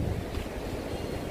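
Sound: sea waves at high tide

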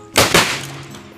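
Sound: homemade spirit-fuelled firecracker (mercon spiritus) exploding

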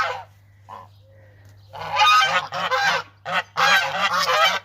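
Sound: geese honking

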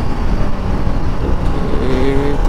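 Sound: Bajaj Pulsar RS200 motorcycle engine roaring

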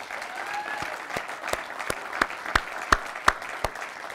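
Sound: audience applause for the volunteers

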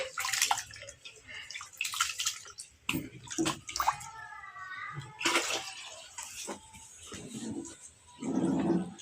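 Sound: washing soaked foxtail millet rice in water

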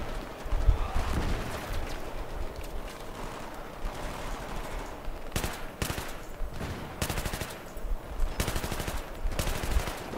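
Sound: machine gun fire in the video game Battlefield 3

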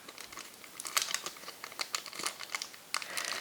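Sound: double plastic bag crinkling while unpacking a ring

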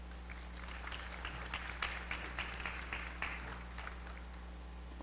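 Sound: round of applause for a speaker

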